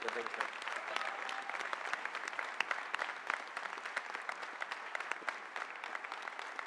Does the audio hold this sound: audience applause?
yes